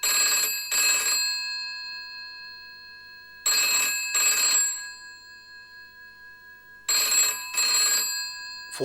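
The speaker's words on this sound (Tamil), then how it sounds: "ஃபோன் அடிச்சாலே படபடங்குது" A landline telephone in a home hallway rings in three clear double bursts, each pair of bright electronic trills separated by a few seconds of silence, loud and close with no talk.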